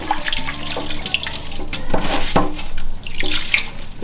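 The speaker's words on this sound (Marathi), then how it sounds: "आता अगोदर मी हे थोडेसे पाण्याने धुवून घेते पोहे." Poha, flattened rice, rinsed by hand in a home kitchen under a running tap, a steady close splash of water with small clinks and sloshes, no talking.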